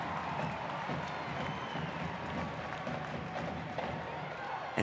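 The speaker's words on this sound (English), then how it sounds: "Round of applause from the fans." Fans applaud at a 2022 NWSL women's soccer match between Kansas City Current and San Diego Wave. Steady, dense crowd clapping and stadium noise fill the whole stretch at a moderate level.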